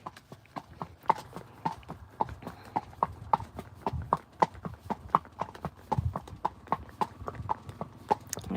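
Friesian horses walking on a hard surface, hooves clip-clopping in a steady, brisk, evenly spaced rhythm, close and clear throughout with light ambient noise beneath.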